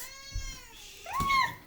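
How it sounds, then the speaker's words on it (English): A pet cat lets out a drawn-out meow that bends downward, followed by a second rising call, close by and moderately loud in an otherwise quiet room. "Our cat joined in."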